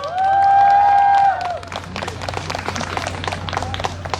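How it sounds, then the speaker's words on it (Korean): Audience at a Jeju policy fair clapping to cheer on high school students, a sustained electronic tone at the start giving way to scattered, lively applause from a crowd. "여러분 큰 박수로 우리 청소년 여러분들 응원해 주시기 바랍니다"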